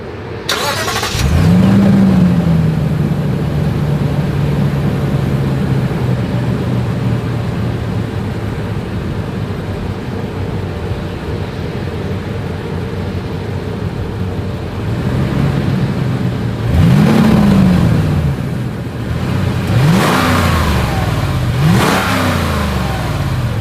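A 2022 Lexus GX 460 SUV exhaust revs sharply from idle, holds a steady rumbling drone, then blips hard twice more near the end, loud and close.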